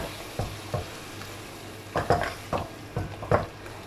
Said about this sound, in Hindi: टमाटर प्यूरी जो हम लोगों ने 3 टमाटरों की प्यूरी रेडी की थी वो ऐड करेंगे, मिक्स कर लेंगे।